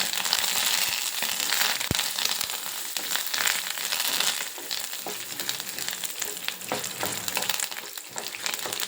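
Peanuts and curry leaves fry in hot oil in a pan for peanut chutney, giving a dense, steady crackling sizzle throughout with scattered sharper pops, close and fairly loud, with no voices.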